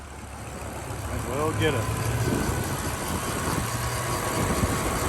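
A 2008 BMW M6 Cabriolet's V10 idles with a steady low rumble beneath people chatting nearby, the engine drone holding even throughout.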